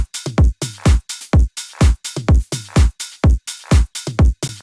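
An electronic drum section with hi-hats plays a punchy, regular pattern of deep kicks and crisp hits, loud and repeating evenly with no voices.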